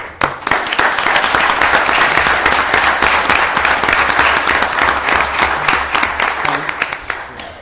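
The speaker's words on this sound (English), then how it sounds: "I think a round of applause is in order" Audience applause in a Board of Supervisors meeting chamber, a sustained, loud, dense round of clapping lasting several seconds, with some voices underneath.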